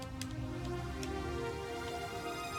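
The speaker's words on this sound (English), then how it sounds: "I get this sort of sustained, nice brassy sound." A sustained, brassy synthesizer tone from the Dreams game on PS4, played with a DualShock controller, holds steadily throughout, rich in harmonics, with a couple of faint clicks near the start; no voices.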